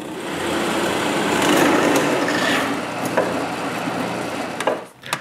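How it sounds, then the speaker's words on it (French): A drill bores a dowel-sized hole into a wood scrap, giving a continuous high whirring, grinding buzz that swells and then eases. Near the end there are a few sharp knocks as the cut finishes. "je commence donc par percer un trou de la même grosseur que les goujons dans une de mes chutes"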